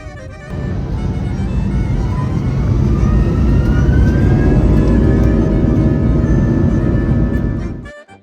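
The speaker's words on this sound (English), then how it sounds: "we pushed back from the gate for our departure from Tirana Airport" A passenger airliner departs Tirana Airport with a loud, steady jet roar that swells and holds for several seconds before cutting off abruptly, heard without speech.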